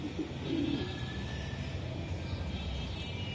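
Racer pigeons at a market stall coo in a brief low burst early on, set against a steady background hum and rumble, with no clear speech.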